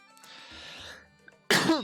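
A single loud, harsh cough bursts close to the microphone after a stretch of quiet, with a rough, breathy tail that fades quickly.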